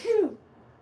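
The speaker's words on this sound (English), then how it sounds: "I'm going to sneeze" A single close, abrupt sneeze from one person bursts out briefly, then trails into near silence.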